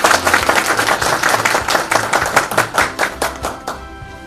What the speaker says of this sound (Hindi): आप लोगों के लिए ताली।